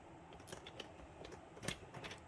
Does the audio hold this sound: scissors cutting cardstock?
yes